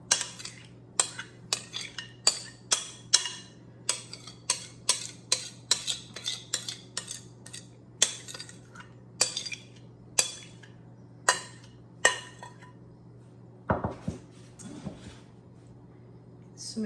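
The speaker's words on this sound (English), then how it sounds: "you're going to spoon it right into the crust" A spoon scoops no-bake lime filling into a pie crust, a long run of sharp, regular clinks and taps of metal against a bowl, close and crisp, with a brief rustle near the end.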